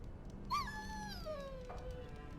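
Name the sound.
dog whimpering in video game Dragon Age: Origins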